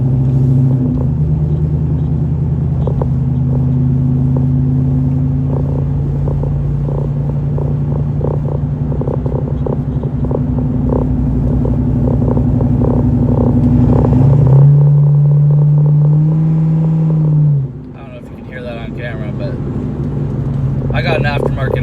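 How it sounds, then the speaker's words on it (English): A Ford Mustang New Edge with a 2-valve V8, aftermarket exhaust, catless custom H-pipe, resonator delete and dual Black Widow mufflers, rumbles loudly and steadily, swells into a stronger rev near the end, then drops back off. "I got an aftermarket exhaust."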